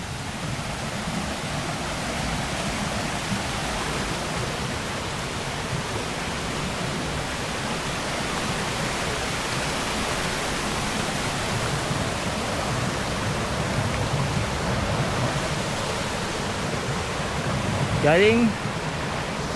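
Baguio Falls waterfall at Little Baguio, San Vicente, Palawan, giving a steady, full rushing roar that holds constant throughout, with a brief voice near the end.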